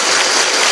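Students at a school reading-week event in Kerala clap together, a dense, steady wash of many hands sustained throughout, loud and close with no talk over it.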